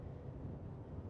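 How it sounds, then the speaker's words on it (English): Cold wind buffeting a microphone outdoors on a Helsinki waterfront, a steady low rumbling roar filling the whole clip without any talk. "Fairly cold wind."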